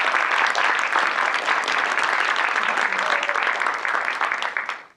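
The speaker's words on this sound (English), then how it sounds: "If I could ask you to please give them all a round of applause for the work that's been done." An audience at an event for a fine press printer applauds loudly and steadily, then the clapping fades away in the last moment.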